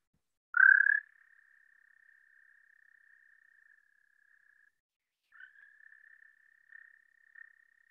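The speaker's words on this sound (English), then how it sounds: "this is what the Canadian toad sounds like." A Canadian toad gives a long, steady trill that starts with a loud onset, runs for several seconds, pauses briefly and then resumes more faintly, heard alone against silence.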